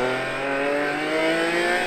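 BMW M4 race car engine in the iRacing sim racing game, a loud, sustained close-up drone of revving at steady pitch with no speech.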